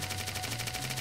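Rapid automatic gunfire in a spy shooter video game, a fast, even burst of shots running steadily through the whole moment at moderate loudness.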